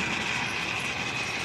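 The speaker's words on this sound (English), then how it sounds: "The Bill Frank Express is coming at you." A Lionel model freight train hauling six cars runs along a home layout, giving a steady close whirring rumble with a constant high motor whine throughout, no talking.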